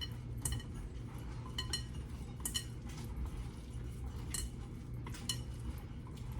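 A spoon stirs bran muffin batter in a bowl, making quiet, irregular clinks and scrapes against the sides at close range.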